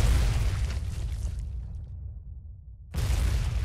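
Artillery shell from the video game Foxhole: a loud, broad boom of firing that rolls off into a decaying rumble, followed about three seconds later by another heavy blast.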